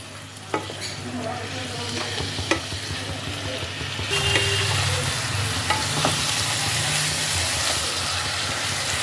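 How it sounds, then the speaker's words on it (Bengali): Bottle gourd tossed with spices in a frying pan, with steady sizzling and frying under repeated scraping and stirring strokes that grow louder and busier halfway through; no voices. "লাউটাকে মশলার সাথে ভালো করে মিশিয়ে নিতে হবে।"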